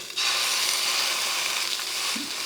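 Large pieces of pot roast beef hit a hot oiled pan and burst into a loud, steady sizzle that holds close and even with no talk.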